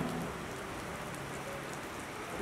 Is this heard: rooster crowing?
no